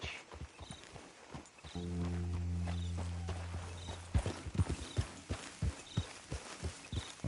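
Horse hooves in Red Dead Redemption 2 clopping in an irregular trotting rhythm, close and fairly faint, joined for a stretch by a low sustained tone.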